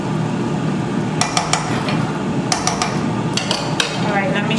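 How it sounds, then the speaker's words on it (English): A metal spoon mixing rice in a pot for Dominican arroz consomé, giving a series of sharp clinks and scrapes in small clusters over a steady background hiss. "make sure that you go and you mix the rice really well"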